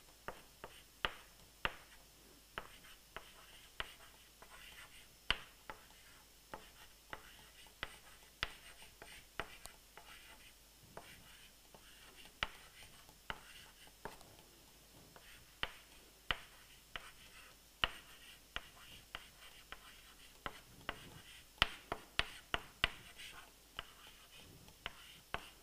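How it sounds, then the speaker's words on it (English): Pen or chalk writing by hand during a lecture, heard as a long run of light, sharp taps and scratches in irregular bursts, fairly faint against a quiet room. "I write it here."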